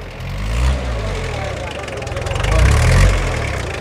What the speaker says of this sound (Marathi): आता तुम्ही पाहू शकता हा ट्रॅक्टर सुद्धा दाखल झालाय